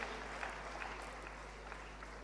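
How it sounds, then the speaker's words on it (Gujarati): Steady applause from an audience at a live stage event at the Pravasi Gujarati Parv, a dense and fairly quiet wash of clapping that holds evenly across the whole stretch with no voices on top. "જોરદાર તાળીઓ ફરી એના માટે"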